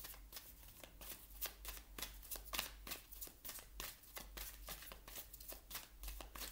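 Oracle cards are shuffled for a reading in a fast, rhythmic run of soft flutters and taps. It sounds close but quiet, with no talking.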